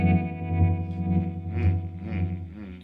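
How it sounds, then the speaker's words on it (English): A Chase Bliss Audio Gravitas pedal runs a dual tremolo over a sustained tone, its volume pulsing in overlapping waves of different speeds. The sound is close and loud, with no voices. "So you've got a dual tremolo."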